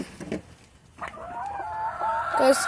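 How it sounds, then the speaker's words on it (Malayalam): Chickens from a small backyard flock of about 25 cluck while feeding by a coop door, with short calls near the start and a longer, rising, drawn-out call building toward the end, close by. "കുറച്ച് കോഴികൾ അവിടെ ഫുഡ് കഴിക്കുക"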